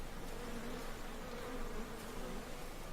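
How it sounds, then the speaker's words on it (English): Bees buzzing in a rural English village setting in the game Everybody's Gone to the Rapture, a faint, steady insect drone over quiet ambient hiss with no voices. "There were bees."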